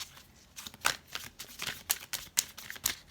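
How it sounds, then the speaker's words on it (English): Tarot cards being shuffled by hand, a run of quick papery riffles and flicks in uneven bursts, close and moderately loud with no talking. "This is my final shuffle, and I'll be picking one card."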